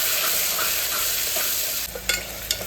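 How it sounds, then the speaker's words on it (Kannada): Onions frying in a pan give a steady bright sizzle that fills the clip, with a few stirring scrapes near the end and no talking. "ಆಮೇಲೆ ಈರುಳ್ಳಿ ಇಷ್ಟನ್ನು ಫ್ರೈ ಮಾಡಬೇಕು."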